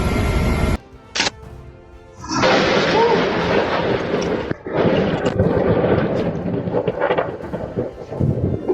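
Deep thunder rumbles from storm clouds moving in over Florida, loud rolling bursts after a short quiet gap, lasting several seconds with uneven swells.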